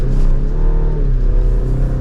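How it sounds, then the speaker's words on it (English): A 2023 GMC Canyon AT4 pickup truck accelerates hard, its engine a loud, close, sustained drone that holds and swells over two seconds, with no voices. "we were able to punch it in the Z71, and it gets up and moves"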